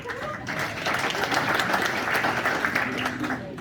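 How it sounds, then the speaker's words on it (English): Applause from a crowd at an awards recap evening, a sustained wash of clapping that swells after a quieter start, with faint voices and cheers mixed underneath. "Let's give them all a big round of applause."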